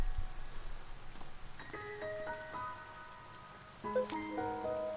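Soft rain patters in the video game To The Moon, a faint steady wash under gentle piano notes that enter partway through.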